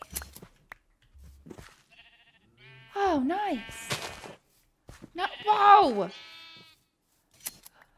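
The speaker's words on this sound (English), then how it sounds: "Bad sheep mom." Sheep bleating in the Minecraft video game, two clear wavering bleats a couple of seconds apart among short game clicks and thumps, with a person speaking briefly.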